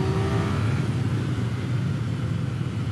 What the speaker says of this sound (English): Definitely revs faster in A mode.